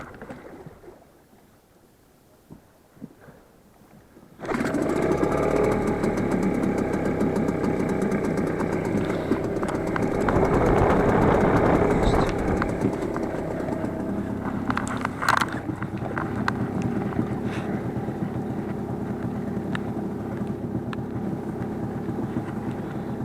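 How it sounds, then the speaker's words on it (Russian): A boat's outboard motor on a river starts after a few seconds of quiet handling noises, then runs at a steady, fairly loud idle with slight shifts in pitch. "Заводим мотор."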